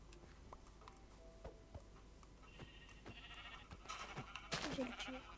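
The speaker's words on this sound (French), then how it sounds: "Un mouton." A sheep bleats in the Minecraft video game, a short call rising near the end over faint ticking game sounds and low background noise.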